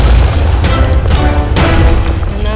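A loud, sustained boom from a bomb blowing up in the video game The Platformer, with crashing, crackling debris layered over a heavy low rumble for a couple of seconds.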